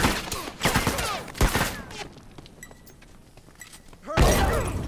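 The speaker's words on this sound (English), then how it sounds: "Yes, that bomb got two of them." A bomb goes off in The Last of Us multiplayer: a loud broadband burst at the start with several sharp follow-up blasts and crackling debris, a quieter stretch, then another heavy boom near the end.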